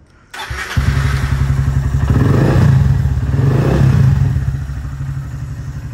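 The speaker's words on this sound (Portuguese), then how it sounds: "Vamos ligar a moto, mano." A Honda Start 160 motorcycle engine cranks and catches, then idles loud and close with a rumbling, thumping beat, rising through a couple of revs before settling back.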